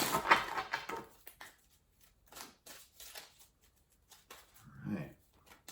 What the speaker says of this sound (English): let's give these a couple more good shuffles.